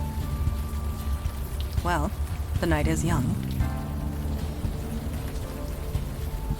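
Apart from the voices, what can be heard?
rain falling at night in video game Unavowed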